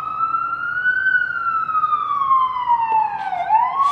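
A police siren wails within a music track as a loud, slowly rising and falling tone with no talk over it.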